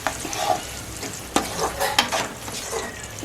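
Crab frying in a pan, with a steady sizzle under repeated scraping stirs and a few sharp clinks of a utensil against the pan, close and fairly loud.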